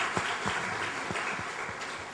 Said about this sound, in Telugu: తర్వాత కార్యక్రమాన్ని అందరూ చప్పట్లు కడదాం వాళ్ళకి